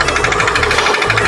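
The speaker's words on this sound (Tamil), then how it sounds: "இன்ஜின் கம்ப்ளைண்ட்னால தான் இந்த நாய்ஸ் வருது" Faulty car engine seizing up, giving a loud, steady metallic knocking clatter close by, running continuously with a brief dip near the end, no voices.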